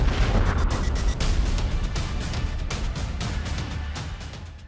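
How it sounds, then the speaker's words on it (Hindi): A dramatic explosion sound effect for a news report on the 2006 Mumbai serial train blasts, in which pressure-cooker bombs went off; loud booming bursts hit in a rapid series and then fade into a rumbling tail. "धमाकों से दहली मुंबई।"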